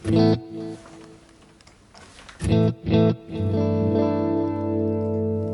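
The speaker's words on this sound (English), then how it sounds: "Tape echo." Boss Katana practice amp running a tape echo delay on electric guitar: short distorted chord stabs repeat and fade, then a sustained ringing chord with echoing trails, loud and alone.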